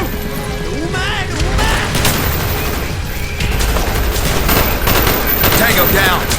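Call of Duty Black Ops combat in Hue City: dense, loud automatic gunfire and heavy booms run throughout, with soldiers' voices shouting over the battle.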